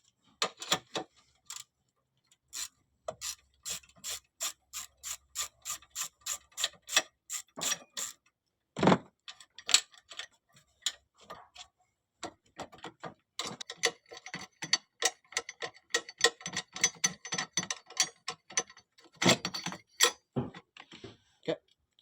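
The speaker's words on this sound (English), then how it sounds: "you're going to need a 10 socket, tube socket, and a ratchet" A ratchet with a 10 mm tube socket loosens bolts on a Nissan Qashqai, making rapid, evenly spaced clicking runs that pause and restart, close and fairly loud, with a louder thump partway through.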